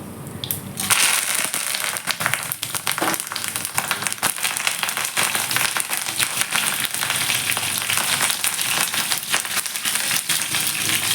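Mustard seeds, cumin, dried chillies and curry leaves hitting hot oil for a ridge gourd curry, erupting into loud, continuous crackling and spitting sizzle close up.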